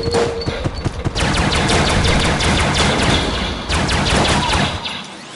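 Rapid bursts of video game gunfire fire continuously at close range, loud and dense, with thumping impacts and layered shots through most of the stretch before trailing off.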